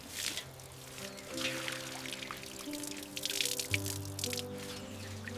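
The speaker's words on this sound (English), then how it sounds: "Water the plants early in the morning." Water drips and trickles steadily while tomato plants are watered, soft and close, with light patters and splashes against a gentle running pour.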